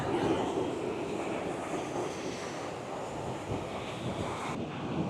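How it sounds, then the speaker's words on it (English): Ocean surf washes steadily at a scenic shoreline while wind buffets the microphone, a soft, continuous rushing roar with no talk. "Check out the ocean."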